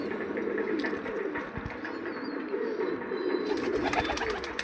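Black pigeons coo in a steady, overlapping chorus close by, soft throaty calls repeating through the whole stretch with faint chirps and rustling among the birds.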